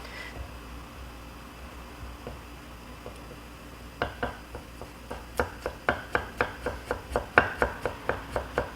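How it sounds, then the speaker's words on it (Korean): A knife thinly slices ginger into fine threads on a board while preparing braised sea bream. After a quiet start, a fast, even run of crisp, close cuts builds steadily, with no talking. "앞날 이용해서 얇게 편 썰어 주세요."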